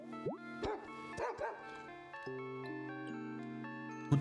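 The bread dog Pokémon in the video game Pokemon Pokopia gives a couple of quick high yips and barks over a steady, tuneful game music loop.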